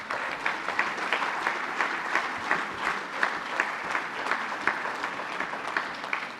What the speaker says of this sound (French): je crois qu'on peut l'applaudir également